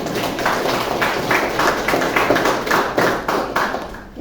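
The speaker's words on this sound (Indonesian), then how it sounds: "tepuk tangan buat sembilan" A class of children claps for a classmate, giving loud, close, rhythmic rounds of hand clapping in a regular pulse that fade out toward the end.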